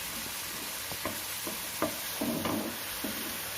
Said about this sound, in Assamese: আমি এই পনীৰখিনি কিছু সময় ভাজিম